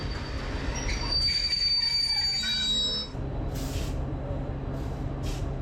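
An old Hastings line diesel-electric multiple unit running on a rail tour from Tunbridge: a steady engine drone with wheel squeal and metallic ringing tones in the first three seconds, then a quieter rumble with brief hissy bursts.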